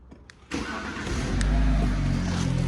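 A BMW 430i M Sport coupe's engine cranks and fires after a short quiet pause, then settles into a loud, steady idle close by with a low rumble.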